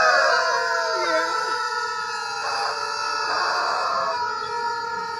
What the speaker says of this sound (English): a cart full of rubber chickens and someone pushing down on all of them at the same time